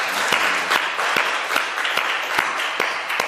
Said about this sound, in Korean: 한 주간도 말씀 주신 주님 앞에 감사의 박수 드리겠습니다